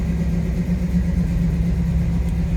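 A 1986 Chevrolet K20 4x4 regular cab long box pickup idles with a steady, deep, close engine rumble throughout, with no talking.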